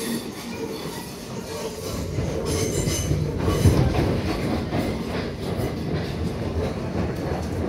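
A Southern train service runs along the track with a steady, moderately loud rumble and rhythmic clatter, broken by occasional wheel squeals, and no clear talking.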